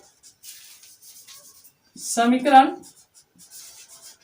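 Marker or chalk scratches out an equation on a board in short, faint strokes, with a brief burst of a voice in the middle.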